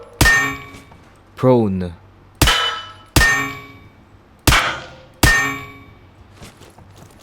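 Single HK416 rifle shots in the Roblox game Deadline ring out as six sharp, loud reports spaced about a second apart, each trailing a ringing decay, with one brief spoken word among them.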